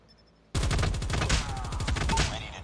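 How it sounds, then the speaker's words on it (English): A loud, close, continuous burst of rapid automatic gunfire from a gun in the mobile shooter Call of Duty Mobile, kicking in suddenly after a quiet moment and holding steady. "Holy smoke, this gun shreds."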